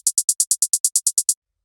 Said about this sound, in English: The next thing we have here is this first hi-hat